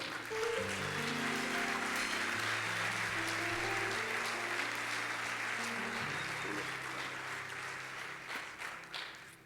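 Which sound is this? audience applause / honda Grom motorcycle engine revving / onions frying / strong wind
audience applause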